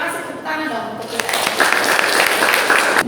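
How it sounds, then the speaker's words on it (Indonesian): Applause breaks out in a vocational high school classroom after a student performance, building from chatter into a dense burst of clapping that lasts about two seconds, with voices mixed in. "tepuk tangan dong untuk kita"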